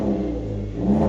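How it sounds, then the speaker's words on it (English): A Vauxhall Agila fitted with a backbox delete exhaust gives a short, deep, loud rev, a thick low engine drone that holds steady and swells again at the end. "Nice, deep tone to that exhaust."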